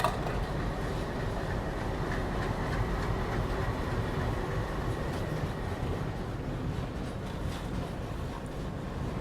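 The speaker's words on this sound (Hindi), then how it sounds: "चलिए जी, सेल्को लोकोमोटिव के साथ" A passenger train hauled by an ALCO diesel locomotive pulls away. It gives a steady, loud rumble with a faint rhythmic rattle of the wagons and no voices.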